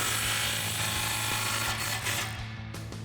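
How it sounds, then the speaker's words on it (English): A ratchet with a 15 mm socket tightens an exhaust clamp on a 2018-2019 Mustang GT during a Borla ATAK cat-back install, a steady fast clicking held close and continuous throughout. "Grab your 15 socket and tighten down this clamp."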